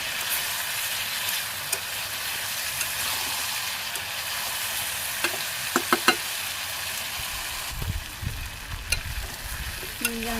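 Vegetables sauté in a pan over a village kitchen fire, giving a steady, moderate sizzle with occasional scraping stirs and clinks. A low rumble comes in near the end.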